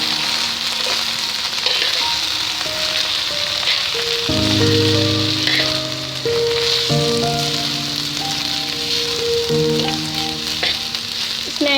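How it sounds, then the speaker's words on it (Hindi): Rice tossed and stirred in a hot pan for peri peri rice, with a steady, close frying sizzle running throughout and no talking. "अब हम इसमें ऐड करेंगे राइस, हम इसको मिक्स कर लेंगे"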